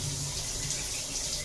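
Steady stream of water poured onto spinach in a cooking pot, a continuous close splashing wash with no talking.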